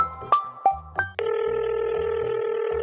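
A phone rings in a village comedy film: three short separate electronic beeps, then a steady, sustained ringing tone close by, with no one talking.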